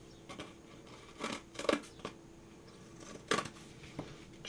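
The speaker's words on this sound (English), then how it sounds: "we're just going to take our scissors," Scissors snipping around the edge of a dried handmade Christmas light-up decoration piece, a few short crisp cuts spaced irregularly, close and quiet with no talking.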